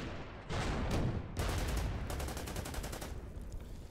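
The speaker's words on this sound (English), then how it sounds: "I'm going to go ahead and fire on this tank." Repeated gunfire and bursts as units fire on an enemy tank in the Order of Battle strategy game, with several loud broadband volleys and a rapid rattling stretch near the end, no talk.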